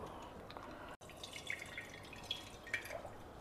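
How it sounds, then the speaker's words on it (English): Soaked tamarind is squeezed by hand in water, giving faint, close wet squelches and drips, soft and irregular, with no talk. "Now we will just squeeze it out and extract the juice."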